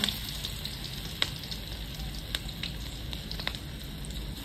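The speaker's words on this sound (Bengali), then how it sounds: "এবার লঙ্কা ভাজছে, বড় বড় লঙ্কা, এগুলো যা ঝাল লঙ্কা।" Large, very hot green chillies fry in oil in a rustic village kitchen, giving a steady close sizzle and hiss with scattered sharp pops and crackles throughout.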